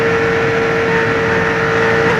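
Loud, steady roar of stock car engines at a NASCAR Busch Series race, a dense continuous drone with a sustained whine and no breaks, close and overwhelming.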